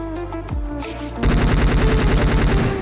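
Automatic gunfire in the battle game PUBG: a couple of loud shots, then a dense, rapid burst of repeated fire that continues steadily to the end, with no talking.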